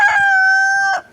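A backyard rooster crows loud and close, one sustained tonal call lasting about a second, with no talking.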